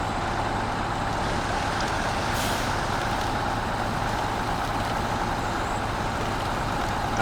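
An off-road truck grinding through wild terrain in the Taymyr region of SnowRunner, a constant heavy engine roar and rumble with a brief hiss partway through, steady and close with no talking.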